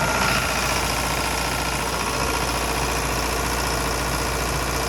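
The diesel engine of a Warrior 1800 screening plant runs at a steady idle, a loud, constant low rumble with mechanical vibration and no breaks.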